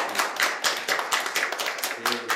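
An audience at a Seoul public forum on waste claps in a short run of uneven bursts, moderately loud, with a voice briefly audible near the end.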